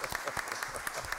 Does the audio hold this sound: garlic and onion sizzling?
no